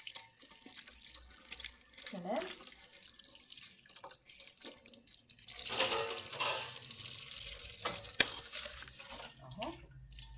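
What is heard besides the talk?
tap water running while rinsing sausage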